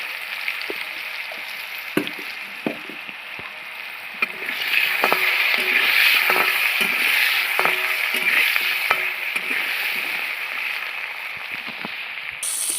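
Potato pieces fry in hot oil in a pan, starting as a quieter crackle and swelling into a steady, close sizzle after a few seconds. Light scraping and stirring clicks are scattered through it.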